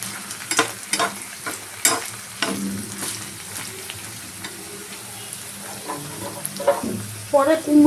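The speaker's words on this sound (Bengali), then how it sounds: "একটু নাড়াচাড়া করলেই হবে।" Pumpkin leaves and vegetables stirred in a hot frying pan, with a steady sizzle broken by repeated scraping and clattering strokes of a spatula, close up and with no talking.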